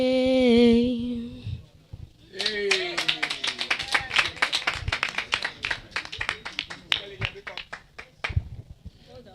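A crowd claps at the Chambers Lane community Wi-Fi launch, bursting into a run of quick, fairly even claps after a voice sings or speaks at the start.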